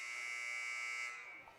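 A loud, steady electronic buzzer sounds for about a second at the end of a quarter in a high school basketball game, then trails off into gym noise.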